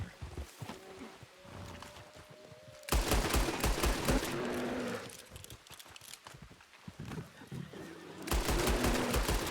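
Amid a western video game shootout, a horse whinnies while rapid gunfire bursts loudly in repeated volleys, crowding out the horse cries between shots.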